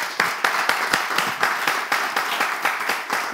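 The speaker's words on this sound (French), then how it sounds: "est-ce qu'on peut applaudir?" Crowd clapping at a DJ event, a fairly loud, rhythmic burst of hand claps with distinct individual slaps standing out at regular intervals over a continuous patter.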